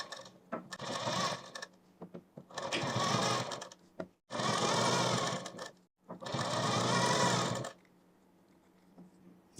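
A sewing machine stitches a kurti in four long bursts of whirring, each a couple of seconds, separated by short pauses, loud and close with no talk over it.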